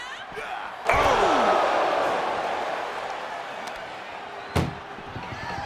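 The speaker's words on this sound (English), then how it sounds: "Trying to at least slam one door shut" An ambulance door is slammed shut in the wrestling video game WWE 2K25. There is a sharp bang followed by a second slam a few seconds later, over steady crowd noise in an arena.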